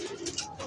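A pigeon coos softly in a short, rounded burst, close and alone, a domestic pigeon handled by a fancier in a loft.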